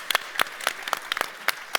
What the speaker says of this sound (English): So let's give a hand of applause for men.